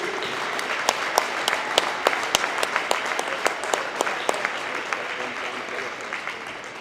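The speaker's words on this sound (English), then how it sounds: "One more round of applause for our seniors" A gym crowd claps for the seniors at a boys' basketball game, a steady wash of applause punctuated by sharp, distinct near claps and some voices underneath.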